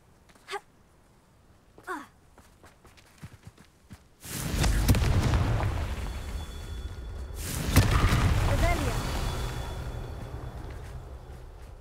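Spell blasts in a Harry Potter video game: two short bursts, then two loud, sustained fiery explosions rumbling for several seconds each, close and full-bodied.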